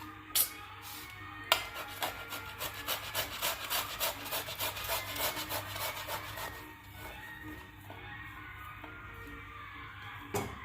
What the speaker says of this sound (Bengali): সেদ্ধ আলু এইভাবে একটা গেটের সাহায্যে ঘষে নিব